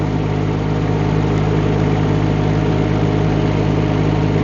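A Rippa R18 mini excavator travels in low gear, its small engine droning at a constant low hum with steady vibration, close and unbroken throughout.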